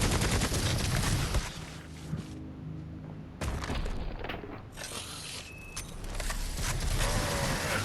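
Enemy gunfire in the Necromunda: Hired Gun video game comes in several loud, close bursts of rapid shots, separated by quieter gaps with mechanical clatter, and a final sustained volley at the end; no one talks.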